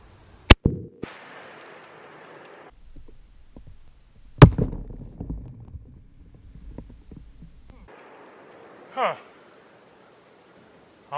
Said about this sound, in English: Let's try the 300 Win Mag one more time.